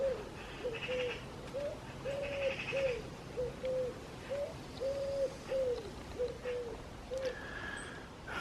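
Wood pigeons coo in a steady, repeated soft rhythm outdoors in a leafy woodland, the calls fairly near and continuing evenly over about eight seconds with faint background bird sounds.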